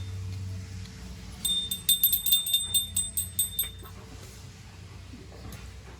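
A small bell rings in a quick series of about a dozen bright strikes over a few seconds during a Satya Narayan Katha ritual, each with a clear ringing tone, over a low background hum.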